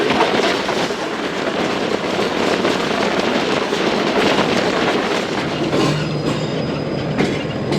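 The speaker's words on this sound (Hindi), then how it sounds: "6:08 और ट्रेन पहुंची है खानपुर।" A Shalimar Express passenger train runs steadily and loudly, with continuous rolling rumble, rail clatter and wheel noise filling the whole stretch; no one speaks.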